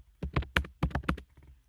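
Quick, close keystrokes on a computer keyboard come in a short, uneven burst of about a dozen clicks, with no talk.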